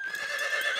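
A cartoon horse neighs on a ranch, a single bright whinny held close and loud for under a second with no talk over it.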